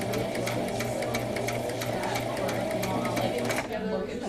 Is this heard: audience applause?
no